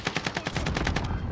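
Rapid automatic gunfire in Call of Duty Warzone, a steady burst of evenly spaced loud shots close by, lasting just over a second.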